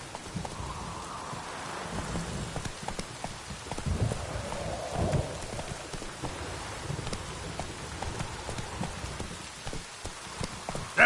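Roach, the horse in The Witcher 3, gallops with rhythmic hoof clops over a continuous bed of rain and low rumbles, the hooves fairly near and moderately loud throughout, with no talking.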